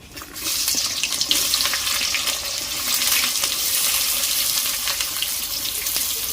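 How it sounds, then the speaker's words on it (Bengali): Onions frying in hot oil with whole garam masala and two or three bay leaves, the base for a Bengali goat meat curry. A steady, close sizzling hiss runs throughout with no talk. "এবারে পেঁয়াজটাকে আমি হালকা লাল করে ভেজে নেব।"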